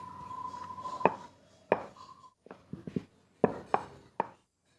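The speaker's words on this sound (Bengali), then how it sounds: "এখানে কেটে নিচ্ছি" A knife cuts through folded dough pieces on a board: about eight crisp, close chopping knocks in irregular groups, separated by short quiet gaps, with no voices.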